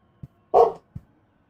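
A lone dog gives one short bark, framed by two faint low thumps, in a quiet room.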